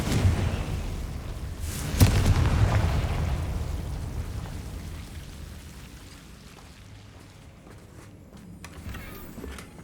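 Incendium and Confringo spells fire in Hogwarts Legacy: a forceful fiery burst lands around two seconds in, followed by a rumbling, crackling decay that fades, with light footstep-like taps near the end.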